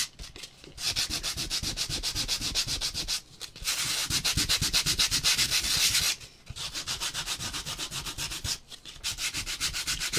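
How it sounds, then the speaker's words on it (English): Steady back-and-forth sanding of a painted patriotic wooden craft piece, loud and close, in long rhythmic bursts separated by three short pauses, with no talking. "And we're just going to sand. You can see where I'm sanding right here."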